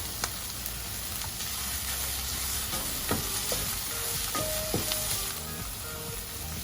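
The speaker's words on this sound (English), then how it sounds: "Give it a nice mix and add the coriander leaves to it." A minced fish mixture with pepper, cumin powder and coriander leaves is stirred in a hot pan, giving a steady close sizzle broken by light scraping and clinking taps of the spoon.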